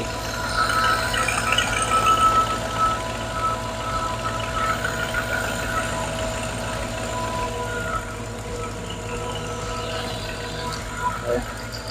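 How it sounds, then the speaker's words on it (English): A Mercedes with a Weistec kit idles in a garage, a steady low engine rumble with a faint ticking, puffing leak-like noise layered over it, while people talk nearby. "It sounds like an exhaust leak."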